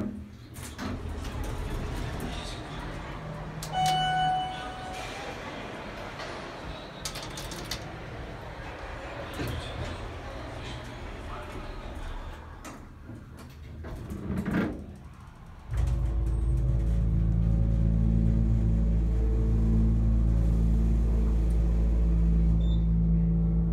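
A ride in an OTIS hydraulic elevator at the Marriott Marquis in Atlanta, Georgia: door clunks and a chime, faint cab noise, then a loud steady low hum as the hydraulic drive starts and the car moves.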